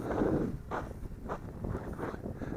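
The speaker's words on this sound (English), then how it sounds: "wind is really picking up again" Gusty wind buffets an outdoor microphone at an RC airplane flying field, with a low rumbling roar and a few soft thumps, fairly loud and without talk.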